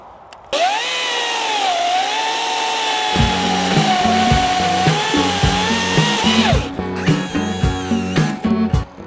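A Tekhmann TCC 14i20 BS cordless chainsaw revs up and whines steadily, then bites into dry deadwood with a loaded, rattling buzz that dips and surges near the end. The saw is loud and close, with no voices.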